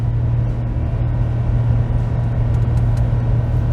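Ford F250 pickup with a 7.3L Godzilla V8 gasoline engine towing a heavy load, a loud, steady engine drone and road rumble held at high revs with no break.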